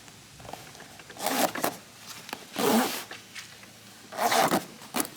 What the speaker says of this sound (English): Let's zip her up.